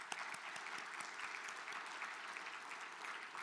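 Sustained audience applause at a civil rights summit plenary on disability rights, dense steady clapping from a large crowd filling the whole stretch at an even level.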